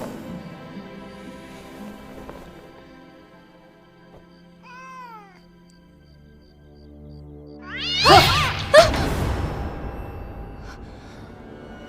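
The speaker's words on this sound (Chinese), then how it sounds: "这怎么会有一只咬人的野猫啊？" A wild cat yowls in a period drama scene: a short rising meow midway, then a loud, harsh caterwaul with snarling bursts near the end, close and alone over a quiet background.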